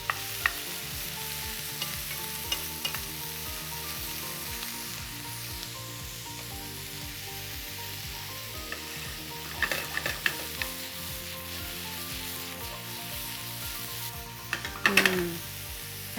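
Onions and vegetables fry in a pan for ratatouille, sizzling steadily and close by. Short bursts of stirring scrape through the hiss, with no voices.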